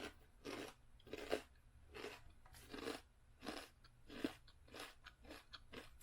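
Red seaweed chips from Trader Joe's are crunched between the teeth up close, making a steady series of about nine crisp bites and chews at a regular rhythm.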